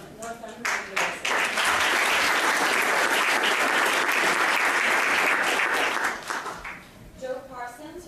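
A large audience at the 2012 Global Final award ceremony applauds winners called to the front, a dense, loud wall of clapping that swells quickly and holds steady for several seconds before thinning into scattered claps.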